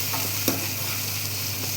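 A spoon stirs coriander powder into spices frying in oil, with a steady sizzle under a scrape or two of stirring, close and continuous, no talking.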